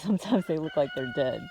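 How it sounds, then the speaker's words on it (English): Roosters crow nearby in a farmyard, a loud, drawn-out call with a few pulsing phrases, under a person talking. "So there are my roosters over there."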